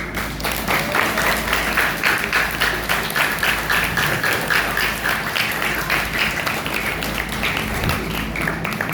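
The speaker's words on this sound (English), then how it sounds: "A round of applause, please." Students and staff at a school assembly give a sustained round of applause, with many hands clapping in a loud, dense, continuous patter that holds steady throughout.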